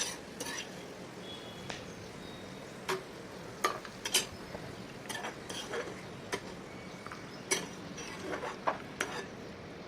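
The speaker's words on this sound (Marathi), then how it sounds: "एक चमचा तूप पंधरा ते वीस काजू छान बदामी कलरला येईपर्यंत भाजून घेऊयात" Cashews roasting in a spoonful of ghee in a pan, a low steady sizzle broken by sharp, scattered clinks and scrapes of a spoon against the metal, fairly quiet and close.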